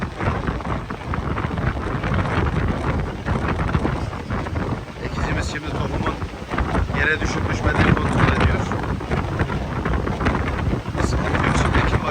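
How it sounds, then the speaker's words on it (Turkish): Strong wind buffets and roars across the microphone in continuous gusts, loud and rumbling outdoors with no clear voices. "Bayağı bir rüzgar da çoğaldı"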